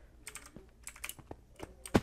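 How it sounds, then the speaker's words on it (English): Computer keyboard typing heard up close, a quick irregular run of clicky keystrokes ending in one louder key strike, with no talk. "I'm pretty sure you guys can hear my keyboard, like, every time I play a game."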